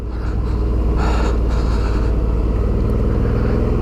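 Suzuki V-Strom DL650 motorcycle fitted with an aftermarket exhaust, riding on a muddy trail, its engine a steady, loud, close droning rumble with a slight rise in revs near the start, no talking.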